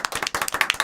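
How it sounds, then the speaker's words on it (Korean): Several people clap together in a brief, quick burst of hand claps, close and fairly loud. "일단 박수 한번 치고 가시죠."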